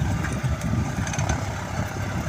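A John Deere 5050D 4WD tractor engine labors steadily while plowing very hard soil, a dense low rumble that holds loud and unbroken throughout with no talk.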